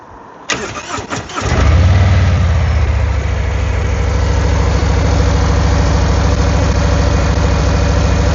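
A Harley-Davidson Street Glide engine with stock exhaust cranks and fires, then settles into a loud, steady, rumbling idle close by.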